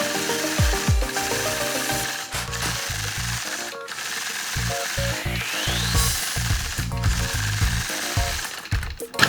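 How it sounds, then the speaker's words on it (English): Sewing machine doing free-motion quilting along a Sway 4 ruler, with a rapid clattering needle mechanism, rubbing and sliding of the ruler and fabric, plus intermittent pauses and bursts, close and fairly loud. "I stop with the needle in the down position, reposition my ruler, and then quilt inside that curve."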